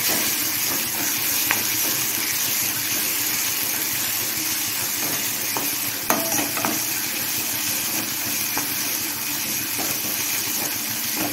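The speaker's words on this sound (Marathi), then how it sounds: "टोमॅटो थोडंसं परतलं की अद्रक लसणाची पेस्ट आणि 3 मिरच्याचे जे मिक्सरमधून काढलं होतं त्याच्यामध्ये टाकून दिलं" Tomatoes sauté in a pan with ginger-garlic paste and chilli, making a loud, steady sizzle and hiss. A few faint stirring clicks sound close up and no one speaks.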